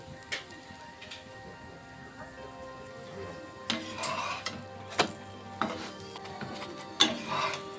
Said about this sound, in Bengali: ব্রাউন করে পরোটাটি ভেজে নেব।